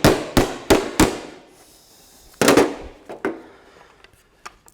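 An Austin Healey rear guard panel being hammered and shaped: four quick, sharp metal blows, a pause, then another hard strike followed by lighter scattered taps, close and loud with short ringing decay.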